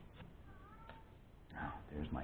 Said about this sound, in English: there's my cat. I don't know if you guys can hear her.